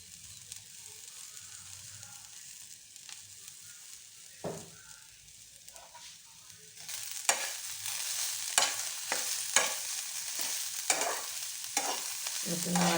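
Bottle gourd peel frying in a pan with turmeric and salt, a low steady sizzle broken by repeated scraping stirs that grow louder and busier in the second half, no voices.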